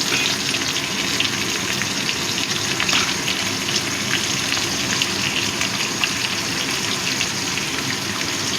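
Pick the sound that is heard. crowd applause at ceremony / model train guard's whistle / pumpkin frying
pumpkin frying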